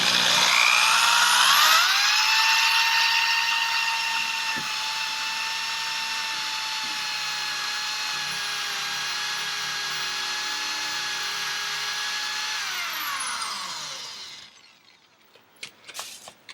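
A power drill bores through the pin tumblers of a lock cylinder with a drill bit, its high whine holding steady and close for about twelve seconds, then winding down and stopping, followed by a few faint clicks and handling noises.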